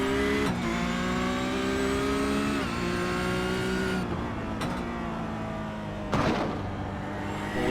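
Porsche Cup race cars at a Belle Isle street circuit driven hard through curves, loud engine notes rising and falling with sharp gear changes and revving, a car passing close, continuous engine roar with no talk.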